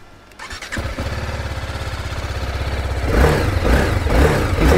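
A BMW G310RR motorcycle engine, freshly serviced with its chain tightened, fires up and settles into a loud, rhythmic idle, then rises into a deeper, throbbing rev near the end.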